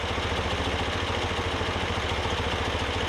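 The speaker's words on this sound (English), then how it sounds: "We're idling right at 800 RPM." An engine idles steadily at about 800 RPM after carburetor balancing, a constant even rumble up close with a fine regular pulse and no talking.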